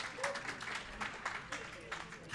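Audience at a talk keeps clapping in a light, uneven patter, fairly faint and distant, while someone speaks over it.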